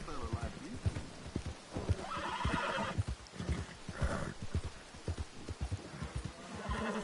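A horse whinnies and clip-clops in Red Dead Redemption 2 during a hunt for a legendary wolf, with repeated hoofbeats and neighs close by, mixed with speech over the top.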